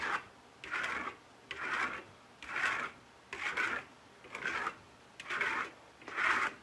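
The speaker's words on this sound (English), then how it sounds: "I am going to scrape carefully where I got the StucoLux in here." A trowel scraping over drying StucoLux and LusterStone plaster in eight steady, evenly spaced rasping strokes, close and moderately loud, with brief quiet gaps between passes and no talking.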